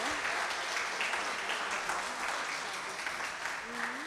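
Audience applause for the Collège Saint-Louis de Bourdon team at a televised quiz match, a steady dense clapping wash throughout, with a voice faintly audible underneath.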